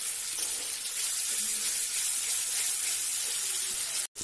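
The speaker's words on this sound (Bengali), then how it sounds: "কিছুক্ষণ কষিয়ে নেবো, 2-3 মিনিট মতো।" Masala and prawns sautéing in oil in a pan for a cashew-paste prawn malai curry, giving a steady, close sizzling hiss that holds level throughout and cuts out briefly just before the end.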